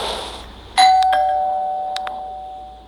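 A doorbell chimes once with a clear, sustained electronic tone that rings on and slowly fades, accompanied by a few faint clicks, heard at moderate loudness with no talking.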